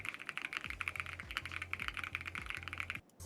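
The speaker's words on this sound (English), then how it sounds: "Can I just hear the keyboard?" Rapid typing on a custom mechanical computer keyboard, crisp close clacks in a quick irregular rhythm with occasional heavier thocks, stopping abruptly near the end.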